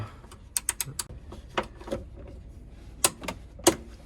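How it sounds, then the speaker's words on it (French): Tightening the anti-roll bar bolts on a Ford Focus RS MK3 with a torque wrench gives a run of sharp ratcheting clicks and metallic taps in irregular bursts, close up and without speech. "Tu vois, je vais serrer au couple."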